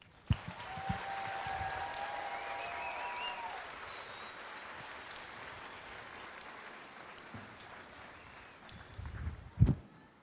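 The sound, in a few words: crowd applause for soldiers at graduation ceremony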